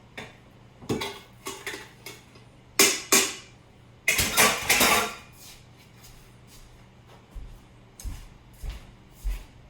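A pot of pasta for mac and cheese is carried to a kitchen sink and drained: a few clanks of the pot, then a loud rushing pour for about a second, with more scattered knocks afterward and no talking.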